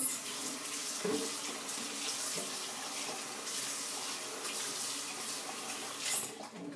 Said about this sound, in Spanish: that's me rinsing out the papaya, of course.